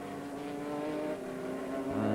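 A race car in the 2002 American Le Mans Series roars along the circuit, its engine note held in a steady high drone that swells slightly as it passes, fairly faint and heard alone.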